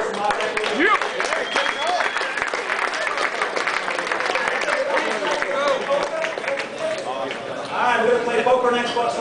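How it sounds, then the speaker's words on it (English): A press-event audience applauds Mark Echo at an Xbox 360 event, steady loud clapping and crowd noise filling the room with a few whoops and voices mixed in. "Let's get a round of applause for Mark Echo."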